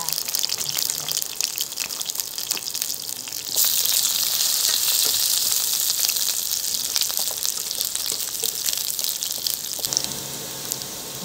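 Sweet potato fries in a pan with a continuous loud sizzle and crackle. The frying swells partway through and carries on steadily, close by.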